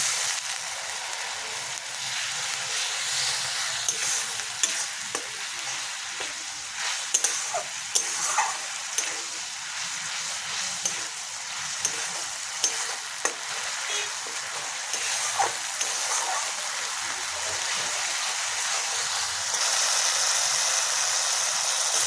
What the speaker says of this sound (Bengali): একটু জল দিয়ে একটু কষিয়ে নেব